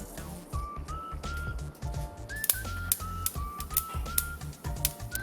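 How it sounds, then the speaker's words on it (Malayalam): Mustard seeds pop and crackle in hot coconut oil in a pan, a fast run of sharp clicks and snaps over a low sizzle, close and steady with no talking. "എണ്ണ ചൂടാവുമ്പോൾ കടുക് ഇട്ട് കൊടുക്കാം."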